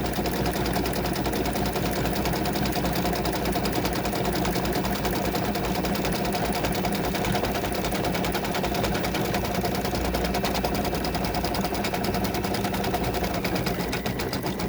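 An embroidery sewing machine stitches a free-standing lace turkey pendant on stabilizer, a continuous loud rapid needle chatter and motor hum, steady and close throughout.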